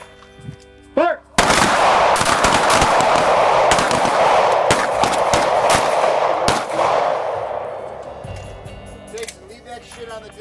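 A close retention pistol drill at an outdoor range erupts in a rapid volley of loud, overlapping gunshots from several shooters after a spoken command, dense for about five seconds before tapering into scattered final shots and echo.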